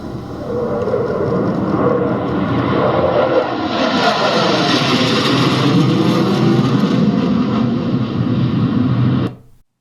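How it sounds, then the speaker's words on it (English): F-16 fighter jets roar overhead in the skies over Ukraine, a loud, broad engine rush swelling and shifting for several seconds before cutting off abruptly, with no talking. "another video of F-16s over the skies of Ukraine"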